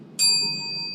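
A single debate timing bell rings once, a clear, bright metallic ding that strikes sharply and rings on, fading slowly, heard alone and close.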